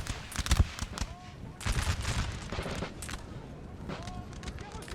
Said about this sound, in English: We have one long, solid line here of Austrians firing. The French in the woods returning fire.